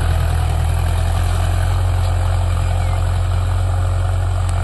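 A Farmtrac 6055 tractor engine runs steadily at close range while dozer working, a loud low throbbing drone that holds constant without pause.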